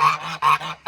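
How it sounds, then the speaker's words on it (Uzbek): Indian Runner ducks calling in a series of three loud, nasal honking quacks close by, each note strong and separated by brief gaps, with no talking over them. "Mana indiyskiy beginoklar"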